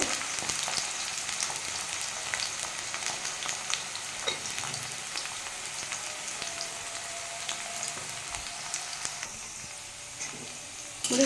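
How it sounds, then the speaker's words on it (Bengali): Potato pieces fry in oil in a pan with flour and black cumin seeds, giving a soft, even sizzle and light crackling throughout, fairly quiet and without any talking. "আমি আলুটা হালকা করে একটু ভেজে নেব"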